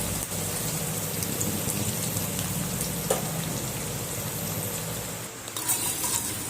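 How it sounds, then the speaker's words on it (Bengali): Sliced onions and green chillies fry in hot oil in a kadai until crisp, giving a steady, close, rain-like sizzle with a few sharp stirring clicks and no talking. "পেঁয়াজটাকে আর কাঁচা লঙ্কাটাকে বেরেস্তা বানিয়ে নেব।"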